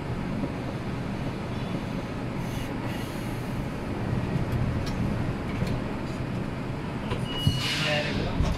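From the driver's cab, a Bucharest Metro Line 5 train departs on the newly opened Eroilor to Valea Ialomiței section. A steady, loud rolling rumble continues throughout, with faint voices and a brief high wheel squeal near the end.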